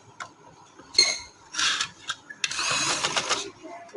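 A sewing machine runs stitching trouser fabric in short bursts, with a rapid mechanical chatter starting and stopping between brief pauses and soft handling clicks.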